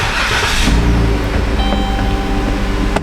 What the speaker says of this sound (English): Let me start the vehicle.